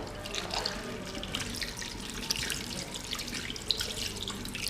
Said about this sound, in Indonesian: Selanjutnya kita bilas menggunakan air mengalir